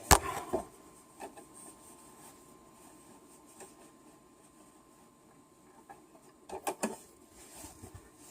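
A sewing machine stitches fabric in a few short, quiet bursts, once at the start and again near the end, with a faint low hum between them.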